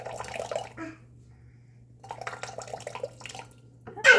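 Tap water runs in short bursts into a container, splashing and trickling, stopping for about a second in between and then resuming with a louder gush at the end.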